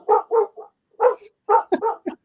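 A person vocally imitates a distant dog barking, giving several short, muffled woofs in uneven groups with brief pauses between them, performed alone without other talk.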